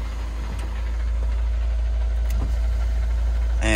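A Mercedes-Benz 190E engine runs at a steady idle in a driveway, a low constant rumble close by, with a brief clatter near the end.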